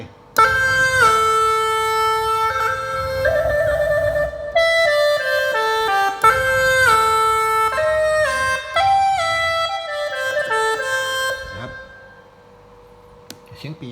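A Phu Thai pipe (pi) sample on a Yamaha PSR-SX keyboard, a reedy wind melody of stepping, held notes played loud and close for about twelve seconds before fading to quiet.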